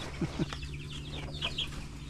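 Newly hatched chicks and older chickens in a coop hut: two soft clucks come close together, then brief high peeping chirps, all fairly faint over a low background hum.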